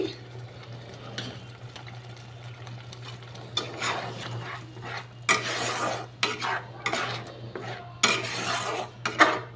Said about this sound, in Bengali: এইবার মশলাটা একটু কষানো হবে